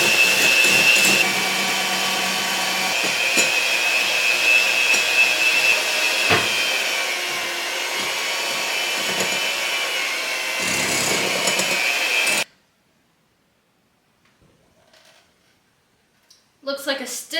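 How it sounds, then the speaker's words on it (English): An electric mixer whirs steadily as it beats eggs to stiff peaks for meringue cookies, a loud continuous drone with brief dips, cutting off abruptly into near silence before a few closing sounds; a person talks over it. "I need to beat the eggs until they form stiff peaks"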